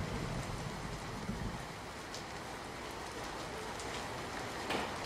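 Heavy rain falls steadily during a downpour that floods several areas, making a dense, even hiss of drops on surfaces with a lower rumble at the start and no voices.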